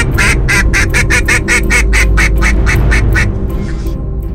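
An Avian-X duck call being tested, blown in a quick rhythmic series of about a dozen loud, close quacks that trail off into softer notes, over a low background rumble.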